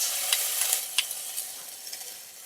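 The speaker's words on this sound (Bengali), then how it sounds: "সবগুলো একসাথে খুব ভালো করে একটু ভাজা ভাজা করে নেব" Ginger and garlic paste fries in hot oil for a jackfruit cutlet, a steady soft sizzle broken by light spoon taps and scrapes against the pan.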